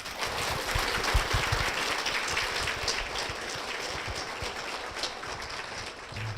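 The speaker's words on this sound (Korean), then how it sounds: "박수로 모시겠습니다." A church congregation claps to welcome a guest, a soft, fairly distant wash of steady applause with no voices over it.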